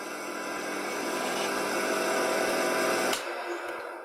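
Homemade wooden wood lathe running at its lowest speed of about 1000 RPM, a steady broadband whir with a faint hum, cutting out abruptly near the end.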